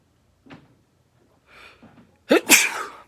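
A single sharp human sneeze, close and loud, comes near the end after a few faint breathy sounds and shuffles in a quiet room.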